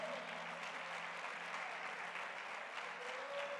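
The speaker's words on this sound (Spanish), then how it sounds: "Dele palmas de alabanza al Señor" A church congregation claps in praise to the Lord, a steady, even wash of many hands at a distance, unbroken and level for the whole stretch with a faint tone underneath.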